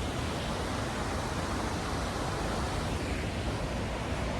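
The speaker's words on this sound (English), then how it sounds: "आपको बैकग्राउंड से वाटरफॉल का वॉइस आता रहेगा." Jogini Waterfall near Manali roars as a steady, dense rush of falling water, constant and unbroken without voices.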